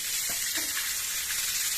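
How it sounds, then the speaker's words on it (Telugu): Eggs fry in oil seasoned with salt and turmeric, giving a short burst of bright, dense sizzling that stays steady and close, with faint bubbling underneath. "చిటికెడు సాల్ట్ను కూడా వేసి వేయించుకోవాలి. చూడండి ఎలా వేగుతున్నాయో."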